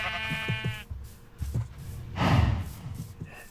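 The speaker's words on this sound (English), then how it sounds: "We have the sheep." Minecraft sheep bleat at a zoo petting area, two or three distinct wavering calls close by with a breathy snort-like sound in between.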